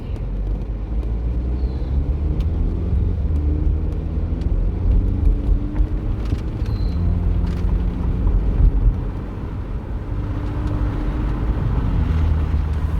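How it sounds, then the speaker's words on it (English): A Chevy Equinox with a replaced engine drives steadily on a test drive, low engine rumble and road noise, some wind buffeting the microphone, no talking. "taking the car on a test drive now"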